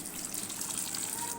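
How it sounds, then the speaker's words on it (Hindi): Water pours steadily into a pan for raw mango juice, a continuous splashing gush close to the microphone with no pauses. "और इसमें हम 2 कप पानी डालेंगे।"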